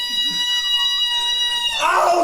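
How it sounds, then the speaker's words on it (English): A high, steady ringing tone like a flashbang sound effect holds for about two seconds, then cuts off into a louder burst of noise and voice. "just a flashbang, like the highest ringing noise you can hear."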